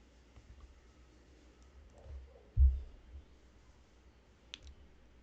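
A computer mouse clicks once, short and soft, over a quiet room hum while a pull request is created on GitHub, with a faint tap a couple of seconds later.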